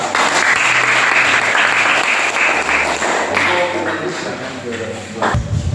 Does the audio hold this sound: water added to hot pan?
no